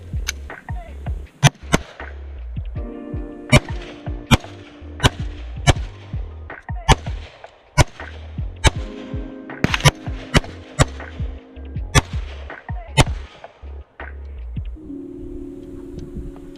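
A gun at an outdoor range fires a magazine of about 20 rounds in sharp, loud, evenly spaced shots over roughly fifteen seconds, with faint background noise between them.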